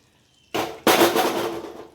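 Sesame oil hits a hot pan of puliyodharai tamarind mixture, a sudden loud sizzling burst that jumps sharply once more, then hisses steadily and slowly fades.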